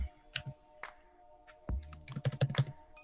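Computer keyboard typing: scattered keystrokes, then a quicker run of clicks toward the end, close and clear, with no talk.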